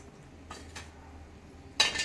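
A metal spoon taps against a cooking pot while sambar powder is added for vegetable sambar, two light clinks followed by a brighter, louder clatter near the end.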